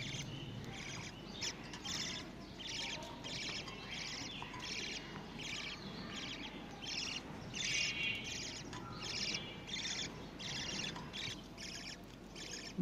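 A 30-day-old budgerigar chick gives steady, thin chirps and squeaky calls that repeat through a constant background hiss, close and moderately faint throughout.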